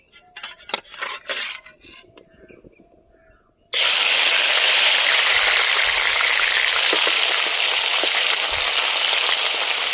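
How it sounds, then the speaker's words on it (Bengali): Shing catfish rubbed with turmeric and salt hits hot oil in a wok and erupts into a loud, steady sizzling hiss after several seconds of quieter clatter and handling noises. "কড়াই বসে দিয়েছি তেল দিয়ে দিয়েছি তেল গরম হয়ে গেছে এখন মাছগুলো আমি ভাজি নেব"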